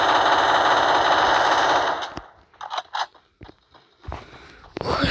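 Gunfire in the video game Free Fire: a dense rapid burst of automatic fire for about two seconds, then scattered single shots and clatter, loud and close with no talk over it.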